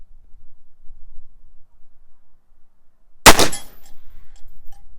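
A single loud, sharp shot from a Taurus 627 Tracker .357 Magnum revolver cracks out after a quiet stretch, followed by a brief decaying ring.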